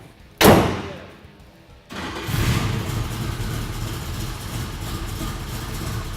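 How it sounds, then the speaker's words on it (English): A car engine fitted with Holley Sniper EFI fuel injection cranks and fires up in a garage, a sharp burst of starter noise, a short lull, then a steady rumbling idle that carries on close by. "Let's go ahead and close this hood and get it fired up"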